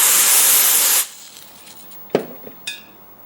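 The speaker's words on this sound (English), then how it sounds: "if I spray some cold spray on the PROM" A loud hiss of cold spray aerosol on a PROM chip for about a second, followed by quiet and a few light clicks and taps.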